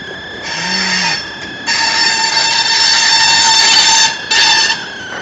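A loud BNSF freight train rolls past nearby, its steady drone laced with high metallic ringing and squeal, pausing briefly before continuing.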